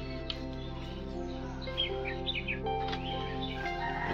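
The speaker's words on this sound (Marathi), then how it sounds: "हे बघा, ही चिमणी ओरडते ना," A sparrow chirps near its nest on a rural morning walk in Konkan, with several faint, scattered high chirps over a steady low background hum.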